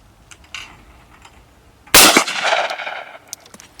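One sharp, loud shotgun blast fires at clay targets on a skeet range, its report echoing and decaying over about a second, with faint soft clicks before and after.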